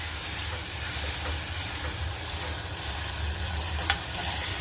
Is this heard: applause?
no